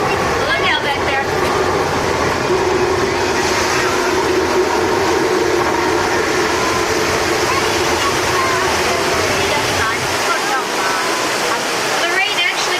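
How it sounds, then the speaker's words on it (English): Artificial flash flood on a studio back lot, with rain from sprinklers under the trees and water rushing down a hill: a loud, continuous roar heard during a tram tour, with voices mixed in. "Whenever it rains out here on our back lot, we often have flash floods."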